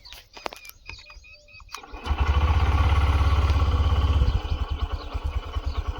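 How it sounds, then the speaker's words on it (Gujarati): A motorcycle engine cranks and catches, then settles into a loud, steady close idle that rumbles on before easing slightly in rhythm. "બાઇકને ચાલુ કરીને આપણે જઈએ હવે ઘર બાજુ"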